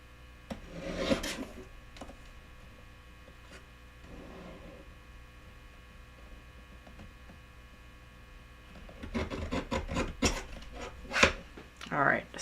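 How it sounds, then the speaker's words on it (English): Trimming a strip of blue glitter paper for a card, with quiet rasping cuts in short bursts near the start and then a denser run of rubbing strokes near the end, all over a low hum. "I'm going to trim this really quick. So I'm over here trimming."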